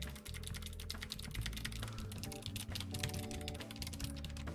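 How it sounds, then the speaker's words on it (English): Rapid, continuous typing clatters on a thin mechanical keyboard during a World of Warcraft gaming session, dense close clicks and taps with no speech over it. "I can hear my keys going"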